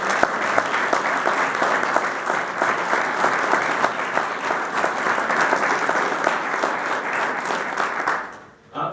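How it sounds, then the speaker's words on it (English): An audience gives a sustained round of applause at a 2017 hall of fame ceremony, dense clapping from many hands filling the room steadily for several seconds before fading out near the end. "can we just give a round of applause to them for what they do?"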